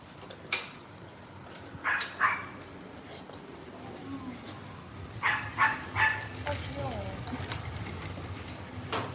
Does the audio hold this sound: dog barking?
yes